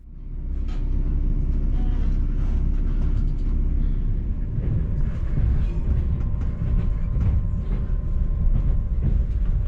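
CrossCountry InterCity 125 train running on rails on the approach to Birmingham, a steady loud rumble with rhythmic clatter and a faint whine, continuous throughout.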